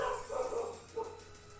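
Household dogs barking faintly in the background, a couple of short muffled barks in quick succession, heard at a distance with no speech.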